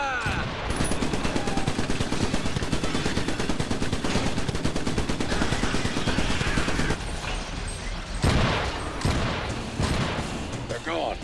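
Rapid, continuous automatic gunfire from the mech game Iron Brigade runs for about seven seconds. Heavier booming shots follow, all loud and close, with a voice talking over the action.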